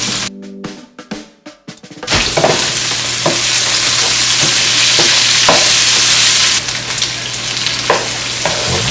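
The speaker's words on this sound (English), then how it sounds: "I'm gonna give it a stir, and now I'm gonna add in some sliced up white onions." Sliced white onions hit a pan of browned steak bites with a sudden loud, hissing sizzle that holds steady and close, broken by a few scraping stirs. A few knocks and clatters come first, just before the sizzle starts.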